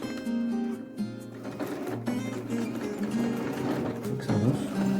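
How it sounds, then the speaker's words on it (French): A domestic sewing machine stitches elastic, its motor running in a steady mechanical whir with rhythmic needle clatter that briefly pauses and restarts, close and fairly loud throughout. "là, je vais commencer à coudre, donc je vais d'abord coudre l'élastique."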